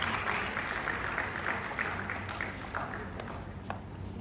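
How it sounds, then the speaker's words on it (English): Students and audience clap at a college eye donation awareness program, a steady, moderately loud patter of applause running throughout with no clear voice over it. "A round of applause for the students."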